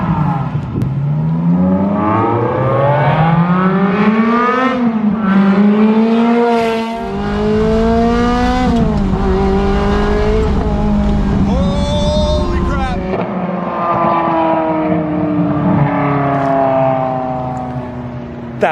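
A straight-piped Ferrari F355 engine revs hard and loud, rising and falling through repeated pulls as it drives, with raspy harmonics filling the whole stretch.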